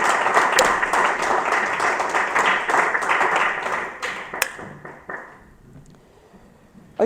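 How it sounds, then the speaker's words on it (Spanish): A church congregation applauds, dense clapping from many hands that holds steady for several seconds, then thins out and fades, with a few last claps and a sharp clap near the very end. "Dele un aplauso al Rey con todo su corazón"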